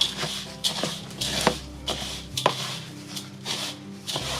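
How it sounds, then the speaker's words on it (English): Granola mixture seasoned with sea salt is stirred in a bowl, giving scraping, rubbing strokes in an uneven rhythm that is close and fairly quiet, over soft music. "Let's give it a stir first. Let's get all this mixed up."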